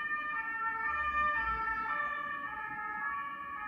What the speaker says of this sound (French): Alors, on va laisser passer la sirène.